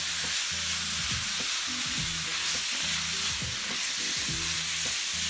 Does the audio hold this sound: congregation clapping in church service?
no